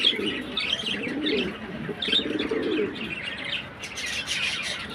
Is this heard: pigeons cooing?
yes